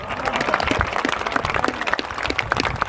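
An audience at a Hindi kavi sammelan poetry recital claps for the poet Dr. Hariom Pawar, dense, close-sounding applause that stays even throughout the short burst.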